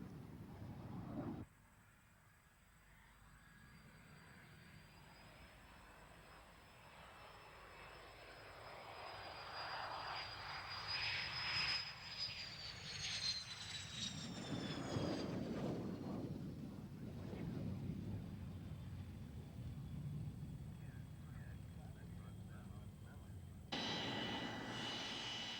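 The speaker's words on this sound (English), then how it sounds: "First to land was a TA-4K dual-seated trainer, followed by the single-seat A-4K version." An A-4K Skyhawk jet comes in to land at the 1987 Ardmore air show, its engine whine rising and sliding in pitch as the roar swells to a broad rumble, with narration heard over it.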